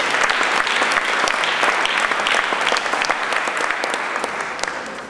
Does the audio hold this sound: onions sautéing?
no